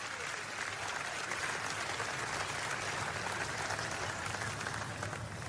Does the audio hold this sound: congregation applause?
yes